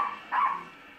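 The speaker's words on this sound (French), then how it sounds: "Ce sont des aboiements qui traduisent un stress." A small Maltese dog barks from stress, giving a brief yappy burst in the middle of a quiet indoor moment, fairly close and moderately loud.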